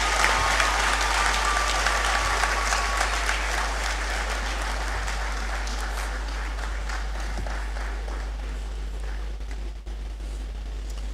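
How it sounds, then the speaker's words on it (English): An audience at a university graduation ceremony gives sustained, dense applause, loud and steady throughout with no voices standing out, in a large hall. "Shall we give him another round of applause?"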